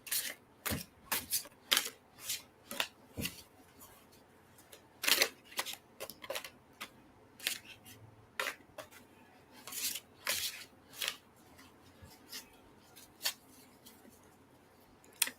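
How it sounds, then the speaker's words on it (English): A deck of tarot cards being shuffled up close, producing a quiet, irregular run of sharp flicking and slapping bursts with short pauses between them. "Let me shuffle these up real good."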